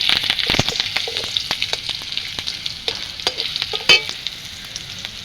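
Torn green chillies spitting and crackling in hot salted oil in a Bengali home kitchen, with a dense steady sizzle and frequent sharp pops throughout and no talk.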